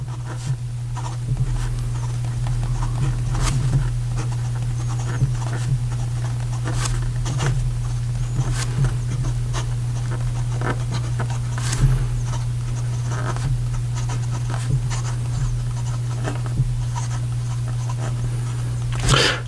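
Pilot Custom Urushi fountain pen with an 18 karat nib writing on paper: soft, continuous scratching strokes with small taps at letter starts, close and quiet over a constant low electrical hum.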